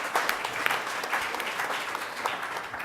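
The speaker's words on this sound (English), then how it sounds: "Let's give a round of applause for Fernando." A room full of people claps warmly at a San Francisco political organizing talk, a steady dense patter of hands that holds at an even level for a few seconds without a break.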